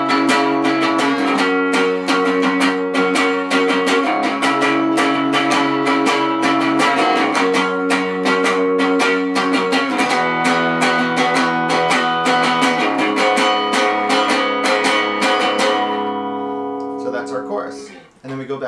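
Guitar tuned down plays the chorus of a song with steady, sustained chords and picked notes, loud and continuous before fading out near the end.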